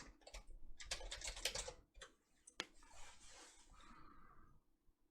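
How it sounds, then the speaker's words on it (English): Rapid clattering keystrokes on a computer keyboard entering a short search phrase, a dense burst of close taps followed by a few spaced presses and a trailing soft hiss. "let's type in N64 console"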